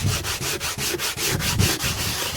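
A painting being sanded by hand, close and loud, with brisk rhythmic rubbing strokes about five per second and no talk.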